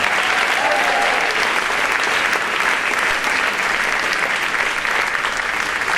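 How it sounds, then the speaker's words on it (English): A crowd at a varsity sports awards ceremony claps loudly and continuously, a dense even wash of applause lasting the whole stretch without a break. "Come on, everybody clap."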